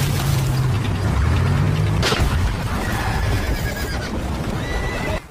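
A frightened horse whinnies loudly and close by in a Soviet-German wartime battle scene, a long shrill neigh over the first two seconds, followed by a dense, rumbling din of battle.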